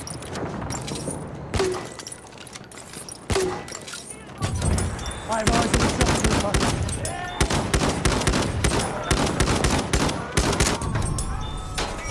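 Enemy machine gun fire in the World War I shooter Battlefield 1, loud rapid bursts that turn into a dense continuous barrage with sharp impacts, while a voice talks over it.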